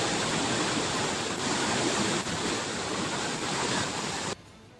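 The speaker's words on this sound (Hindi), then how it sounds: "बांध से लगातार पानी छोड़ा जा रहा है" Massive water release roaring from the Three Gorges Dam in China during severe flooding, a loud continuous broadband rush that cuts off abruptly near the end.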